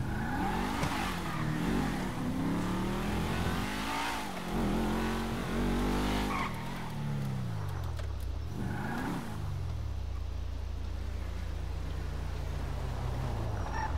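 A car in the video game GTA revs hard, then its engine pitch sweeps down and up as it brakes and skids, continuous and close, settling into a low idle-like drone.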